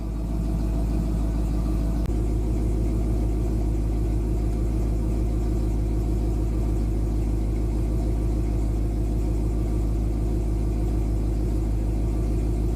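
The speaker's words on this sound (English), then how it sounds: "sitting here idling. Been running the car for about 20 minutes." A Pontiac car engine idles steadily, fully warmed up, with a low, even rumble, close and continuous with no voices.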